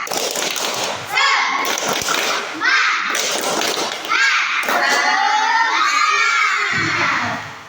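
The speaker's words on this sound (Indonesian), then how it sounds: "kita tepuk semangat dulu" Schoolchildren in a classroom perform a rhythmic spirit clap chant, shouting in unison in short bursts punctuated by loud group claps and thumps, with a lively, energetic pattern of call phrases repeated several times.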